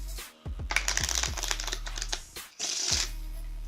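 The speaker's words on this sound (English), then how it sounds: "we'll give a couple of cuts, maybe some shuffles" Quick papery riffling and flicking of playing cards being cut and shuffled in two bursts, with a low steady hum underneath and short pauses between.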